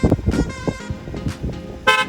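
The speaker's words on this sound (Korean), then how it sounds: "이제 K3의 클락션 소리를 들어보겠습니다" A 2022 Kia K3 1.6 facelift sounds its horn in short, loud honks close by, with a final bright blast near the end.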